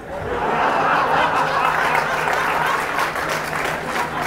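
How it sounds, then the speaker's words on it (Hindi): An audience at a spiritual talk claps loudly and continuously, a dense roar of hands with a few scattered chuckles and murmurs mixed in underneath. "और ताली मत बजाओ"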